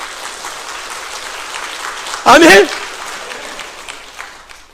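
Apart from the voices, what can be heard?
congregation applauding in church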